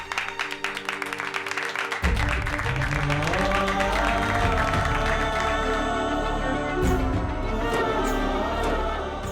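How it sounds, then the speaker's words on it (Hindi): Applause from a gathered crowd at a family anniversary celebration, starting as scattered claps with music, then swelling into sustained, dense clapping under festive music for several seconds. "तालियां।"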